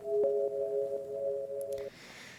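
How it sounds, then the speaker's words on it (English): Sine wave synth plugin called Bing Bong Bang plays a sustained pure tone with a higher harmonic, held steady for nearly two seconds before cutting off, followed by faint clicks and soft hiss. "there's this like little sine wave plug thing called Bing Bong Bang over here, and it sounds like this."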